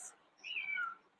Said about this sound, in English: that's my cat who's singing a song.